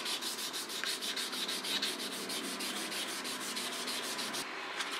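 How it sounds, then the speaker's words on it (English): Fine sandpaper works over the wooden handle of a Tokio Damascus sashimi knife, producing close, steady back-and-forth rubbing strokes in a quick, even rhythm that carries on for several seconds without any voice. "the finer sandpaper makes the wood ultra smooth"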